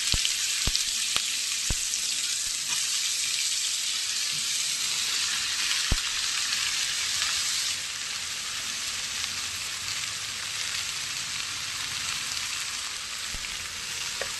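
Pieces of ash gourd hit hot oil and fry with a continuous crackling sizzle, a few sharp pops and spatters standing out early on before the bubbling settles slightly lower and steadier.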